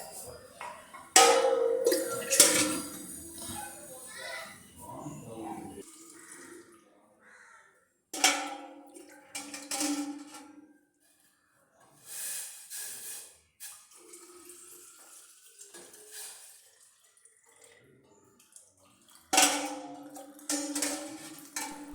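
Metal kitchen vessels and utensils clatter in bursts during a morning hot water and coffee routine, with running water splashing into a sink between the knocks, all close by.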